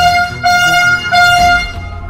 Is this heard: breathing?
no